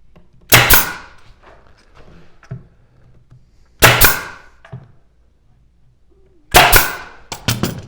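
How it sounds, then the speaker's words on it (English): Pneumatic nailer driving 18 gauge brads and medium crown staples into a wooden cabinet panel; three sharp, loud, close bangs spaced a few seconds apart, the last followed by a couple of quicker shots. "Lined it up with our 18 gauge brads and secure it with our medium crown staple."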